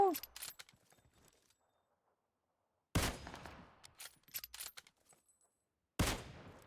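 Gunfire in the mobile battle-royale game PUBG Mobile: three sharp, loud bursts of shots separated by quiet gaps, each with a crackling tail, the middle one followed by scattered smaller shots.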